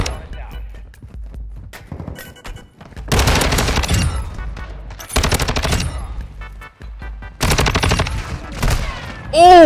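An STB 556 assault rifle in Modern Warfare 2 fires three loud, close automatic bursts, each lasting about a second, separated by brief pauses, with a short rising electronic tone at the end.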